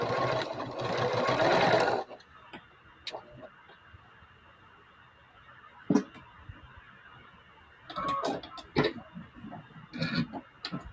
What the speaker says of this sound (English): So you're going to sew one to either side.